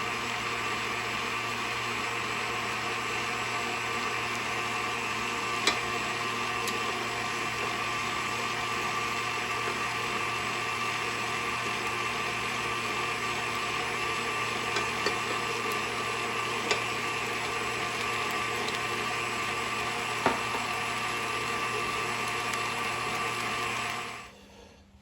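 Stand mixer beats soft, waxy butter and eggs into a peach and polenta upside-down cake batter, giving a steady, close motor whir with a constant pitch that runs unbroken until it cuts off at the very end.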